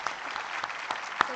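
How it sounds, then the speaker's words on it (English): Applause for a government minister at a national climate governance summit: a short burst of audience clapping with a few sharp individual claps over a softer crowd wash. "A big round of applause for our Minister."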